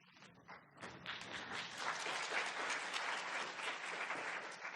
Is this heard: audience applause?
yes